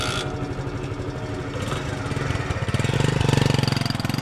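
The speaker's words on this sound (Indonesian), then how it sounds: "aku memakai jaket dan menyalakan motor." A motorcycle engine cranks and fires, settling into a rhythmic chugging idle that grows louder and steadier, close by with no talking.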